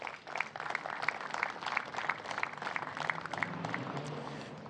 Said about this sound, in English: so please a round of applause for both of them